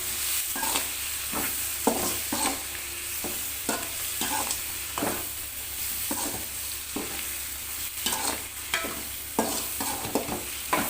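Chopped large tomatoes sauté in hot oil in a pan, a continuous soft sizzle broken by regular scraping stirs of a spoon against the pan, close and moderately loud, with no voices.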